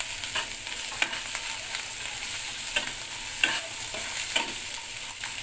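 Chicken with ginger, garlic and onion sizzles in a pan under a steady bright hiss, with occasional soft scrapes and taps as it is stirred, close and unaccompanied by voices.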